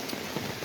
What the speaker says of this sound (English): It's a little bit rainy today.